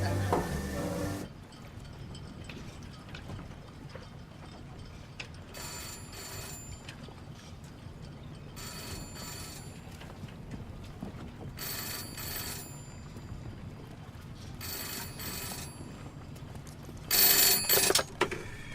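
A telephone rings in repeated bursts, each ring lasting about a second with long quiet gaps between, over a low background rumble and wind noise; the last ring is louder and closer.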